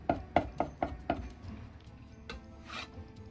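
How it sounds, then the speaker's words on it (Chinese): Ginger and garlic being smashed and then minced with a knife on a board: five quick, sharp, evenly spaced chops up close, followed by softer taps and a brief scraping sweep. "先拍破再剁碎。"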